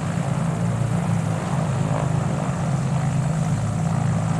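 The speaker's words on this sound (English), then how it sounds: "Now this is the sound of the way the prop is, with no pitch actually on the prop and with a bit of revs." The propeller of a Gee Bee R3 racing plane in Microsoft Flight Simulator turns with no pitch and a little throttle. It gives a continuous, close, low droning hum with a steady buzzing tone and holds an even level throughout.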